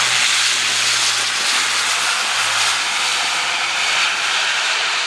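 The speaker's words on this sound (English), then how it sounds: "A400 now, starting the take-off run." An Airbus A400M Atlas military airlifter begins its take-off run at the Farnborough airshow, its turboprop engines producing a loud, steady roaring drone with a low pulsing hum and broad hiss.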